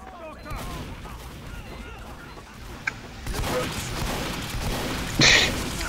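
Team Fortress 2 gunfire on the payload map pl_upward: scattered shots over busy game noise, then one sharp, louder burst near the end.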